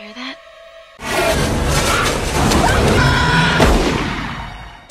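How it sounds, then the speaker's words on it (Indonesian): In a film scene, gunfire rings out from a forest as a sudden loud, sustained roar of shots and rumbling booms that cuts in after a quiet moment and continues throughout. "terlihat panik setelah mendengar suara tembakan dari arah hutan"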